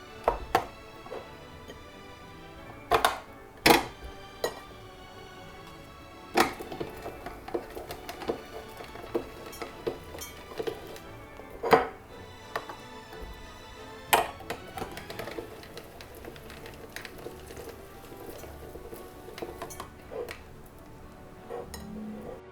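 A handheld dill grinder processes eggs with a run of sharp, irregular clicks and clacks, some loud and close, others softer, repeating throughout over a quiet background.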